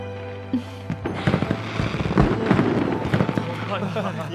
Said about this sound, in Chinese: 怎么会有烟花呢？